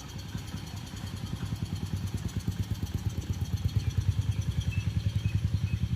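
A motorcycle fitted with a CD engine with an engine fault runs close by in a fast, even chain of low thudding pulses that grows slightly louder, with no one talking.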